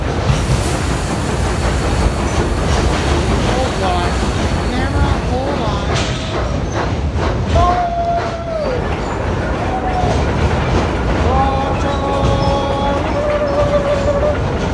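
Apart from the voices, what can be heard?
train passing through rock tunnel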